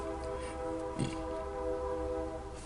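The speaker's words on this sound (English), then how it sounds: "A train in the background." A train rumbles in the distance with a sustained horn-like tone droning steadily, faint and continuous.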